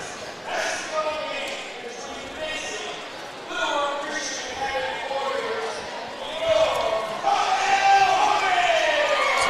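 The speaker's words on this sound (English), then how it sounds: "We've got a crowd in here." A crowd cheers and shouts in a high school basketball gym with a student section, a loud, steady roar that swells near the end, with a commentator talking over it.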